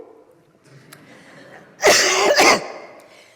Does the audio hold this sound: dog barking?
no